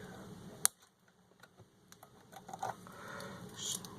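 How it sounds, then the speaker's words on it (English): Scissors trim a gimbal protector made of 3D pen plastic, a few sharp, crisp snips and small clicks spread out over a quiet background. "I'll just use scissors and cut it down just a little bit."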